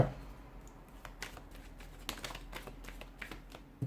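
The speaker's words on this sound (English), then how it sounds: "give the cards a shuffle" Soft, irregular papery rustles and light taps of tarot cards being shuffled, close and quiet, with no voices.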